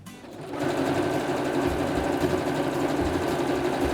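A sewing machine runs steadily while stitching quilt fabric, starting after a brief quiet moment and then holding a continuous, close, even mechanical whir with no talk.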